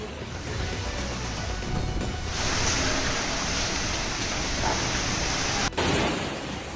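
Heavy rain roars continuously as a dense wash of noise, swelling louder partway through and broken by one short cut.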